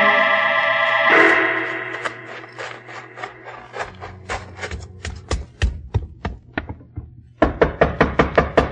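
Knocking on a door, with a ringing tone fading at the start, then a long series of hard wooden knocks that speed up and grow louder, ending in a rapid, insistent burst of pounding, close and with no voices.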